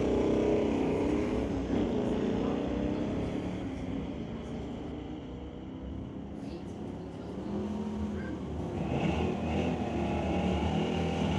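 At a Friday night street-legal drag strip, a Corvette and another car launch from the staging lights, their engines roaring loud and close before the sound fades slightly and swells again as they pull away.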